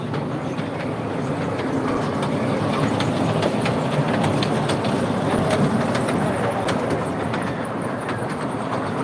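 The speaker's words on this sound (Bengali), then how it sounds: "তো প্রথমেই একটি দৃশ্য ট্রেনটা দেখেন" A toy train ride at the Kishoreganj trade fair rumbles steadily with continuous clickety-clack of wheels on track, loud and close throughout, with no pauses.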